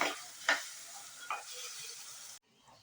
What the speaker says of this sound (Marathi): आता याच्यात हे उकडलेले छोले घालायचे आहेत आणि मिक्स करून घ्यायचे आहे